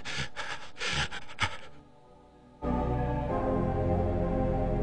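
A character in the adventure game Quest for Glory 4 panting after triggering a poison gas trap: several quick, loud breathy gasps, a short pause, then a sustained low droning background.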